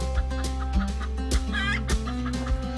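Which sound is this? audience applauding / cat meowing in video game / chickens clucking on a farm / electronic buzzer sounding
chickens clucking on a farm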